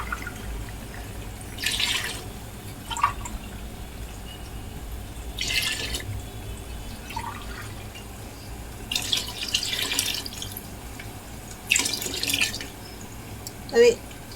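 Water is poured into a cooking pot of chicken for tahari biryani, before soaked rice goes in. Several separate splashing bursts of pouring come up close, with quieter gaps between them.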